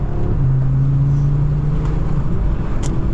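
An Audi RS3 hatchback engine idles with a deep rumble, then rises briefly in a low rev before settling; loud and close, with no talking.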